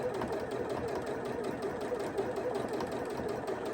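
A sewing machine runs steadily, a fast, even mechanical whir and chatter that is close and continuous, with no talking.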